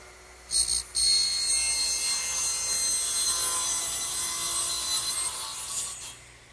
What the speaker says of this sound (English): I might as well cut my shelves, which will be 34 3/8 inches.